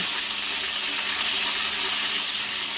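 Tempering sizzles in a pan while being stirred with a ladle for a Nellore-style fish curry, a steady, fairly loud hiss of hot oil running unbroken through the moment, with no voices.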